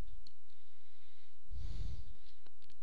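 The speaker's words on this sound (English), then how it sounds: "click on Submit" Computer mouse clicks while an email address is submitted on a website, a few small, faint ticks scattered over quiet background, with a soft breathy exhale in the middle.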